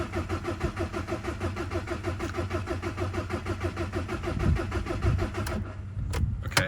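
A TDI-swapped engine cranking steadily without catching, the starter's rhythmic chug repeating for several seconds up close, then cutting off with a few clicks and clunks.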